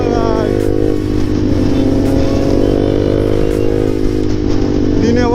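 A KTM RC 390 motorcycle engine revs hard and steadily while riding, a loud continuous buzzing drone with rising tone near the end.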